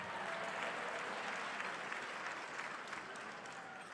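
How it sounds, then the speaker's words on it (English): An audience at a masquerade benefit gala claps steadily, a dense, even wash of applause heard from a distance that holds at a constant level throughout. "Let's give yourselves a round of applause for a fantastic commitment."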